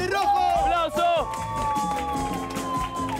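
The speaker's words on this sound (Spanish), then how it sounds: "¡Un aplauso para el de rojo! ¡Aplauso!" A beach bar crowd claps and cheers for a man in red while loud music and voices carry over the applause.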